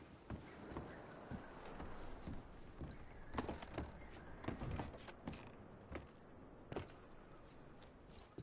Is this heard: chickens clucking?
no